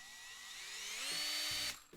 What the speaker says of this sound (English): Another feature most modern drills have is a variable speed trigger